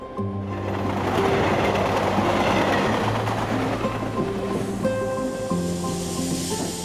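Train pulling into a station near Kalyan, a steady loud rumble and clatter of rail cars with hissing brakes and tonal squeal, no talk over it.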